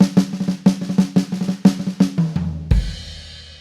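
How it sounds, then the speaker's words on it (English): Drum set played in a 3/8 drag rudiment pattern, each figure ending on the high tom and floor tom: repeated close, loud grace-note strokes landing in a steady rhythm, then a final accented low tom hit that rings out alone. "I'll play that same 3/8 rhythm and I'll play the last two notes on the high tom and the floor tom"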